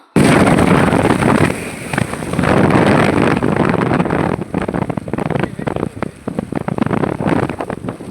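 Loud, roaring wind buffeting the microphone while riding a motorbike through a storm with rain, a constant rumbling rush with gusty surges and rattling.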